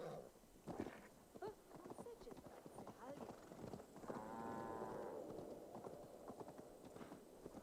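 A horse in Assassin's Creed Valhalla clip-clops in an uneven rhythm with a snort and brief whinny partway through, while someone talks over the hoofbeats.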